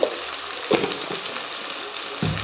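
Tomatoes sautéing in a pan for a curry leaf kuzhambu, a steady close sizzle and frying hiss with a few soft stirring scrapes, no talk.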